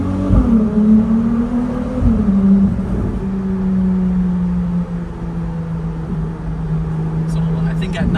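A Ferrari runs through the tunnel on the Monaco F1 circuit, its engine a steady, loud cabin drone that revs up early then settles into a sustained cruise, with faint clicks near the end.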